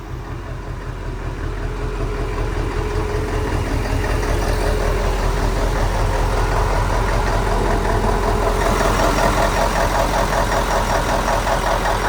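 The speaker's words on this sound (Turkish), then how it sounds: "Önce motor sesini dinleteyim ben size." A car engine runs steadily at idle outdoors in light rain, a constant close, loud rumble that holds the whole stretch with no talk.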